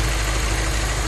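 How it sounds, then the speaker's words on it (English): A Lexus IS-F 2UR-GSE V8 idles close up under the hood, its low, steady rumble carrying a faint, quick ticking from the injectors and high-pressure pump. "The loudest thing I can hear are the injectors, followed by the high pressure pump here, but it's barely a tick."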